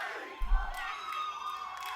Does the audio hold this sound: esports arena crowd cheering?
yes